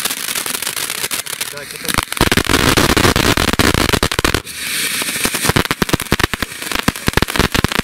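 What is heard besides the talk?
fireworks battery being set off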